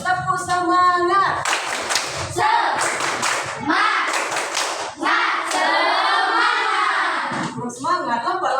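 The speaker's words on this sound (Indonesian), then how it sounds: "Coba kita tepuk semangat dulu." Group of schoolchildren doing a rhythmic spirit clap in a classroom, loud bursts of clapping alternating with children chanting together.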